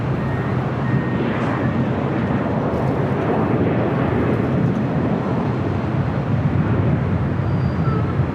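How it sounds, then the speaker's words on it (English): An 18-year-old WestJet Boeing 737-700 airliner at LAX, on a flight heading back to Vancouver, gives a loud, steady jet roar that stays constant and close for the full duration. "WestJet 737-700. This flight heading back to Vancouver."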